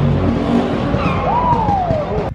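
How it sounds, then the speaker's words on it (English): A car engine revs sharply with a rising and falling tone, close by and loud, amid the rumble of other idling cars stuck in a Monaco traffic jam. "This guy likes a little rev."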